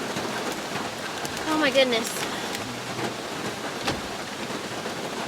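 Steady rain drums on the roof of a parked car during a car-camping overnight, a continuous patter close around the cabin, with a person briefly exclaiming over it.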